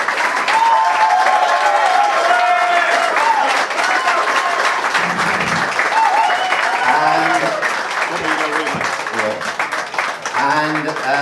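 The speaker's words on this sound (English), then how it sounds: "a round of applause for Rob Penney, the Munster coach" Loud, dense applause from a supporters' gathering in Limerick for the Munster rugby coach, sustained throughout with crowd murmur and voices mixed in toward the end.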